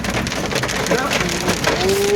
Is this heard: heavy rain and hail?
yes